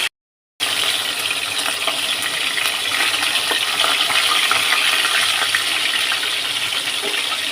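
Pieces of katla fish hit hot oil after a brief silence, setting off a loud, continuous crackling sizzle that stays strong and close until the end, with no voices.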